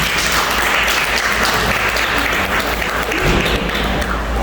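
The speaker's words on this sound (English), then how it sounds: "Y'all give her a round of applause." Audience applause at a childcare training gathering, a steady wash of clapping that holds fairly loud and even throughout, with a faint murmur of voices underneath.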